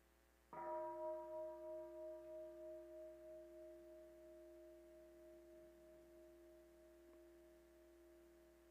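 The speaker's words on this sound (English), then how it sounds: "So let us enjoy one sound of the bell." A single mindfulness bell, struck once during a Buddhist sangha gathering, rings out alone in a quiet room, its clear pure tone slowly fading over several seconds.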